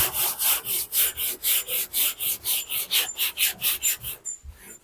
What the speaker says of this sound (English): I'll take the little block here and I'm going to put some 80 grit on it.